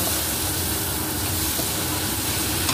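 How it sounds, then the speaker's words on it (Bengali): Water hits a hot pan of peas, potato and mushroom, producing a continuous close hiss and bubbling steam that stays even throughout. "দিয়ে পরিমাণ মতো জল দিয়ে দেব"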